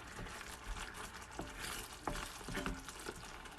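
Rendang curry with potatoes stirred in a pan, a steady soft sizzle broken by several scraping spoon strokes against the pan, close and moderately loud with no talking.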